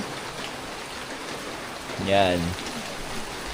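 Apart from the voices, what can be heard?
rain falling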